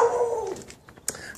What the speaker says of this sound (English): Now you can hear the puppy next door.